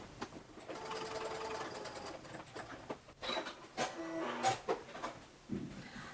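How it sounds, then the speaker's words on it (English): A sewing machine stitches the casing of a ruffled skirt shut, a soft steady whirring run that stops partway, followed by a few quieter clicks and handling noises, close and fairly faint with no speech. "sew this hole in the casing shut"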